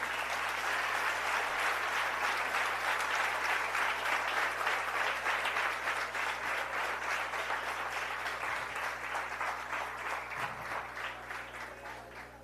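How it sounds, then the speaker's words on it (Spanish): Sustained applause from an audience at a Spanish-language youth conference, steady dense clapping that fades slightly toward the end. "Dele un aplauso al Dios de la gloria."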